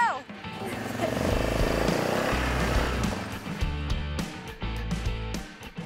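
ATVs pull away together onto forest trails in Oconto County, Wisconsin, engines revving loud and close in a dense, layered roar that holds steady, then dips and swells as the machines move off.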